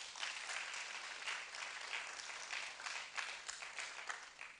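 An audience at a national delegate congress claps together, a dense, steady patter of many hands heard from a moderate distance.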